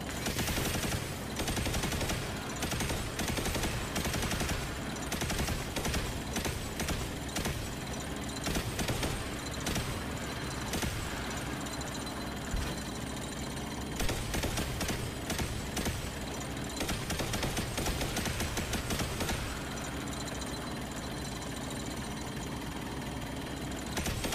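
Sustained automatic exotic-weapon fire in the Destiny 2 shooter, dense and loud throughout with bursts and brief gaps, mechanical whirring underneath, no talking.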